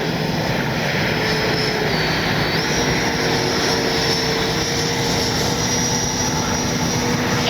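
A Freewing F9F Cougar radio-controlled electric ducted-fan jet whines steadily overhead as it lines up to land, a loud, continuous high-pitched rush with slight pitch shifts and no talking.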